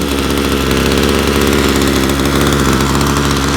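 Ryobi EX-26 two-cycle curved-shaft yard trimmer engine running close and loud, with a steady, buzzy drone throughout.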